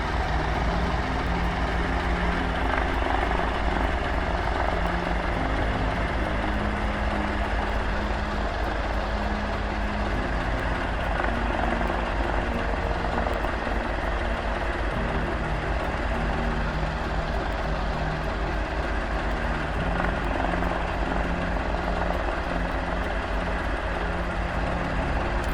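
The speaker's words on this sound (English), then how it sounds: "It's funny that that's called the twin jet, but it's got propellers." A propeller-driven twin jet in a flight simulator drones steadily in flight, a loud, constant engine hum with a low rumbling tone that stays even and unbroken the whole time.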